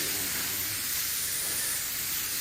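A steady, broad hiss of a hose spraying water against the top of a metal milk tank on a farm, continuous and close, with no talking.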